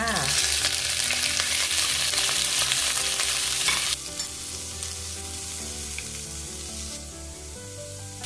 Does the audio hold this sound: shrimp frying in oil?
yes